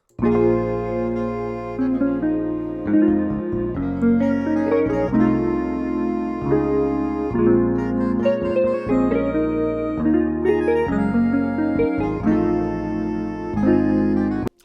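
A mellow, jazzy guitar melody with warm chords and single-note lines plays steadily and repeats, clean and close, with no voices.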